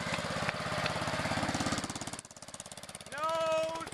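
A Gravely 546 walk-behind tractor with a steering sulky runs close by, its engine chugging in a fast, steady pulse that dips briefly, then holds a strained, whining note near the end.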